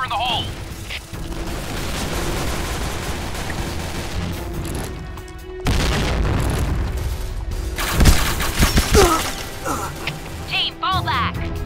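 Loud booming grenade blasts in a shooter video game, a heavy thump midway followed by crashes and gunfire, with voices shouting in the mix.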